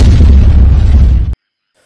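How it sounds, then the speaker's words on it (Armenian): A loud, close explosion booms in a zombie road apocalypse video game, a dense sustained blast rumbling for over a second before cutting off abruptly to silence. "Ահան, պայթեց"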